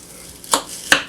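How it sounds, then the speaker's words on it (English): A Tupperware hand crank food processor chops onions, giving two distinct, crisp chopping thuds about half a second apart over a quiet background. "It's a hand crank food processor."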